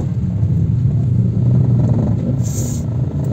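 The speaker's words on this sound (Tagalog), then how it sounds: "sobra pong traffic" Heavy road traffic with a steady, close low rumble of car engines throughout, a brief higher hiss passing near the end; no talk.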